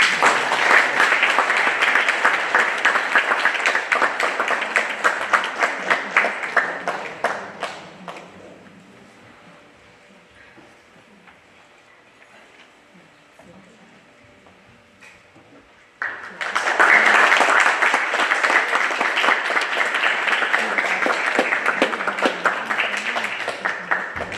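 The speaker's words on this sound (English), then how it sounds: "Please have a round of applause for her." A concert audience claps loudly at an arangetram, a dense burst of applause that fades to near quiet, then a second loud round of clapping starts abruptly and carries on, with a voice over the quiet gap.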